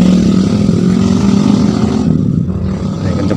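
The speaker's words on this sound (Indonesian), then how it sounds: "ini langsung ke speed 3 ya. Nah, ini putarannya kenceng banget ini anginnya" An electric fan, repaired after a broken capacitor track left it spinning weakly, runs on its highest setting, speed 3, giving a loud, steady whirring roar with a low motor hum throughout.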